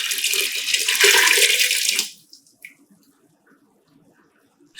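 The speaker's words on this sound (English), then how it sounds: "I'm adding 6 cups of water." Water pours steadily into a soup pot on a medium-high burner for about two seconds, a bright rushing splash that cuts off abruptly, followed by near silence with faint kitchen clatter.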